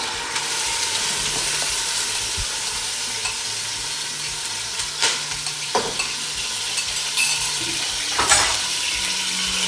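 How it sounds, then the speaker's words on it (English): Red onions frying in oil for Ethiopian lentil wat give a steady, close sizzle and hiss throughout, broken by a few sharper clatters and scrapes as they are stirred. "So I'm gonna put my onions in the oil."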